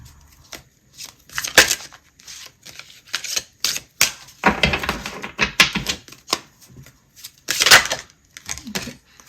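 Tarot cards being shuffled by hand, heard as quick riffling and slapping bursts at close range, uneven and loud.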